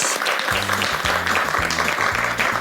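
Studio audience on a Turkish cooking competition show claps for a finalist winning ten gold bangles, brisk continuous applause up close with a rhythmic musical beat pulsing underneath.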